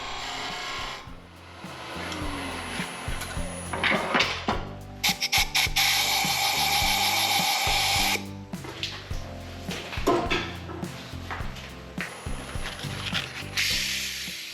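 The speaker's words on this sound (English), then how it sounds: "All that's left is to use my carbide scrapers here" Harsh scraping and rasping of a carbide scraper cutting into a spinning colored-pencil blank on a wood lathe, rising and falling in bursts over a steady machine hum, close and loud.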